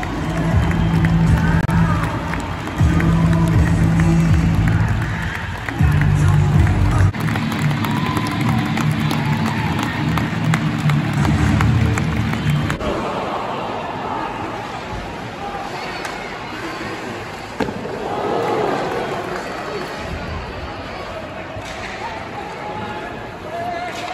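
Crowd at a match in Belfast, a loud continuous roar of cheering and babble that stays dense throughout and eases somewhat in the second half, with voices talking close by.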